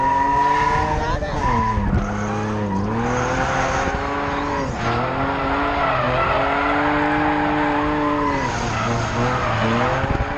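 Car tires squeal and skid through a final lap on a cone-marked track at a packed nighttime event, long wavering pitched screeches over engine roar, loud and continuous with people talking over it.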